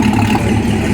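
A twin turbo 1000hp C8 Corvette fitted with a loud MBRP exhaust idles nearby, a steady deep rumble with a lumpy low throb, continuous and fairly loud throughout.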